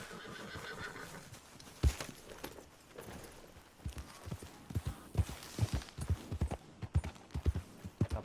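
A horse in Red Dead Redemption 2 neighs early, then its hooves clop in a steady walking rhythm, close and clear, with quiet game ambience.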